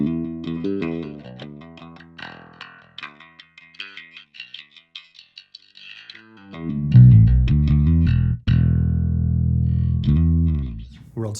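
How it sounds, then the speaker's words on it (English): Bass guitar runs through a Fender Pour Over envelope filter in high-pass mode, the tone sweeping upward as a run of plucked notes gives way to loud, sustained filtered notes. "I'm going to switch to the high pass filter."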